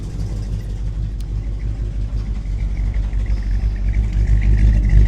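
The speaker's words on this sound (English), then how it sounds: "So the car sounds great." A 1969 Buick Riviera engine idles just after starting, a loud, close, throaty rumble that holds steady and grows slightly fuller toward the end.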